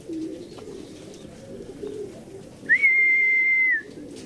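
Pigeons on a roof give soft, low, murmuring coos for the first couple of seconds, followed by a single sustained clear whistle tone, with faint background noise.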